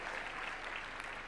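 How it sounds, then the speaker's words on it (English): An audience at a Nairobi conference applauds young speakers, a dense, steady wash of many hands clapping at an even level throughout. "Give them another round of applause, please."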